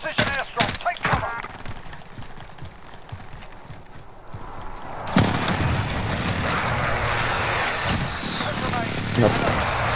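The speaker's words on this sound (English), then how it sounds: "Enemy precision airstrike, take cover!" Enemy precision airstrike in Call of Duty: Modern Warfare: scattered sharp gunshots and thuds give way to a heavy explosive blast followed by a sustained loud roar of impacts, with voices shouting throughout.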